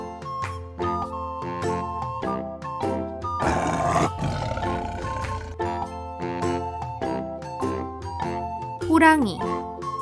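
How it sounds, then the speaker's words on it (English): A tiger roars once, a loud rough burst in the middle, amid bright chiming children's music and a short spoken word. "Tiger"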